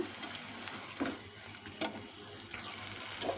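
Tomato pieces being stirred into frying chicken curry in a pan, a soft steady sizzle with a few light scrapes and clinks, fairly quiet and close, no voices.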